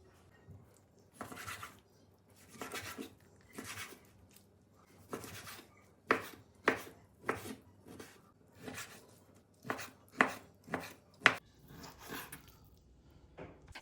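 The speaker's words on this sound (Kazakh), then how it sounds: "Етті турап дайындап қойдық" Knife strokes cutting meat into small cubes on a board, a series of sharp, close taps, sparse at first and then quicker and more regular, with no voices.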